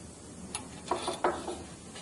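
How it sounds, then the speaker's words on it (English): A wrench turns the adjusting screw on a Jordan Mark 60 valve, giving a few faint ratcheting clicks and metallic ticks close by, with no talking. "Take a wrench,"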